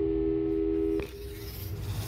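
A steady telephone busy tone drones loudly in Portal 2, a flat two-pitch buzz that cuts off abruptly after about a second, leaving a low hum of game ambience.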